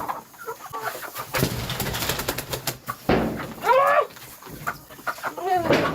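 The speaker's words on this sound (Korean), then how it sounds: "와, 촌닭 빠르다 빨라" Country chickens on a rural farm cluck and squawk up close as they scurry around, with sharp calls rising above rustling and movement noise while people talk briefly.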